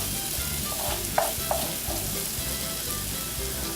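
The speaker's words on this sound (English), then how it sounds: "I'm just gonna let that simmer for about a minute or 2" Italian short ribs sizzle and fry steadily in a pan, a constant hiss with a few brief louder pops and utensil clinks, heard close with no voices.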